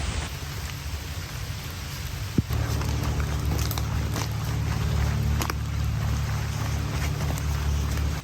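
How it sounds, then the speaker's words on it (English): Steady rain pours down at an urban stealth campsite off-trail in a public park, a dense, continuous hiss of drops on surfaces with a single sharper knock partway through, close and fairly loud throughout. "see if the rain lets up"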